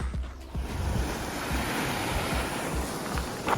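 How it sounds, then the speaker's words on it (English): Wind-driven waves slap and wash on choppy lake water in a continuous rough rush, with gusting wind buffeting the microphone and occasional louder splashes nearby. "Water getting a little bit choppy on the lake."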